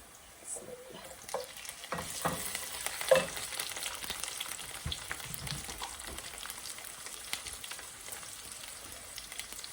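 Shrimp sizzle in a pan with greens, fried onion and chillies, a soft continuous frying crackle with occasional stirring scrapes and taps, fairly quiet and close.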